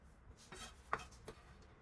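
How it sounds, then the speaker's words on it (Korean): A kitchen knife finely minces dried anchovies on a cutting board; the anchovies have had their heads and guts removed and were briefly microwaved. A few soft, close, quick taps are heard. "칼로 곱게 다져줍니다."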